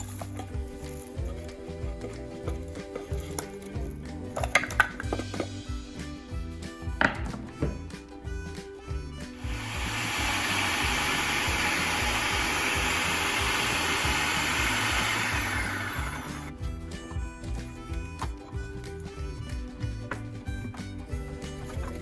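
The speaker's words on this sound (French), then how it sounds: "je mets tout ça dans le robot et on va le passer au mixeur" A food processor whirs steadily for several seconds while blending stock cubes and parsley paste, a loud continuous motor roar framed by quieter kitchen clatter before and after.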